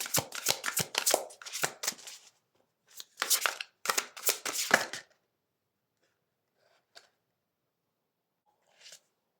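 Tarot cards shuffled by hand, a dense run of crisp riffling bursts in quick clusters during the first five seconds, followed by near silence broken by two faint, brief flicks.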